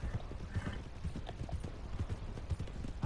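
Horse hooves clip-clop at a steady walking pace in Red Dead Redemption 2, close and clear, each step a distinct knock over low background game ambience.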